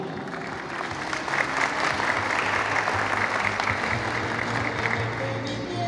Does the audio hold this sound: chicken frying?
no